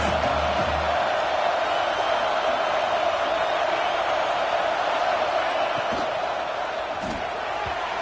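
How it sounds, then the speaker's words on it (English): In a college football video game set at Michigan, a stadium crowd roars as a steady, loud wash of cheering against the offense, with a few faint thuds beneath it. "This crowd trying to make life miserable for this offense."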